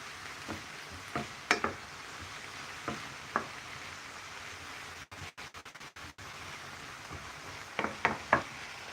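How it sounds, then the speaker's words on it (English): Vegetables for spring rolls fry in a pan with a soft, steady sizzle, broken by close scrapes and clinks of a spoon stirring them every so often. "So I keep stirring them so that they don't burn."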